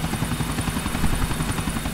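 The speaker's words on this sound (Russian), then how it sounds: "Вертолет что-то медленно летает" A helicopter in Grand Theft Auto IV flies slowly with steady rotor chop throughout, a continuous mid-loud thrum with no speech over it.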